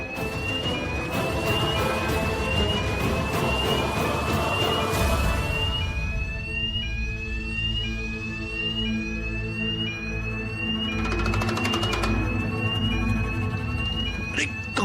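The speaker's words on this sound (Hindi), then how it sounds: "ये तो फायर अलार्म है।" Hotel fire alarm ringing loud and continuous, a repeating rising electronic tone with a steady pulsing pattern and no voices over it.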